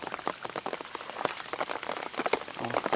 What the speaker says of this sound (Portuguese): Aí vem mais chuva.